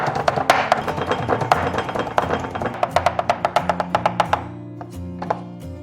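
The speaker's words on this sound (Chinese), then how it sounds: "然后再给它剁成肉末" A knife chops skinless pork foreleg into mince on a board, with rapid, loud, evenly spaced thuds in a close, steady rhythm that slows to a few final strikes.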